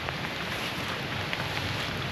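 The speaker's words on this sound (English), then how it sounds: "it's starting to rain again" Steady rain falling across a backyard, a dense, even hiss of drops with no pauses, fairly close and moderately loud, with no talking.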